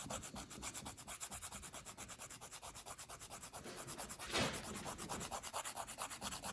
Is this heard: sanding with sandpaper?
yes